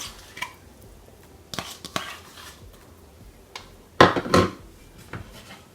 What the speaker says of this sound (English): after I stir it, I'm gonna add my remaining mixed vegetable